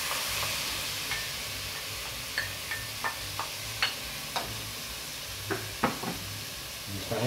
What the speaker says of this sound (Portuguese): Vamos estar refogando os nossos legumes.